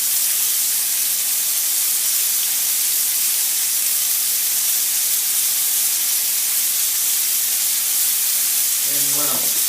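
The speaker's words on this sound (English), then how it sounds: "you're going to want to add the Marsala wine. Deglaze that pan, turn it up a little bit." Pan of chicken deglazed with Marsala wine over raised heat, giving a loud, continuous steamy hiss and sizzle that fills the whole stretch without a break.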